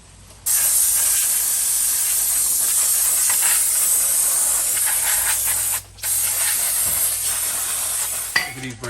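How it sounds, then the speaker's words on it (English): Brake cleaner is sprayed on car brakes in a steady, loud, close hiss that runs unbroken for several seconds, pauses briefly, then resumes and ends with a few short bursts. "let's spray everything down with some brake cleaner"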